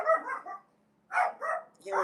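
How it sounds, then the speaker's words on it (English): A dog barks in short bursts, three or four close, moderately loud yaps with brief pauses between them, no talk over it. "Hear my dog?"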